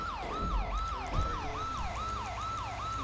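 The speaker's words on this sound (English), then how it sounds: "especially with the fucking siren going" Police car siren wailing in a GTA roleplay game, a steady repeating yelp cycling about twice per second, loud and continuous over low engine rumble.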